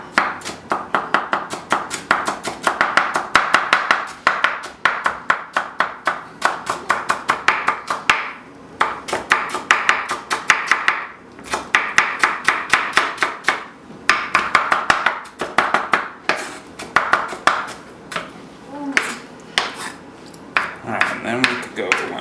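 A knife dicing food on a cutting board for chicken salad sandwiches, rapid rhythmic chopping taps in steady bursts with short pauses, loud and close throughout.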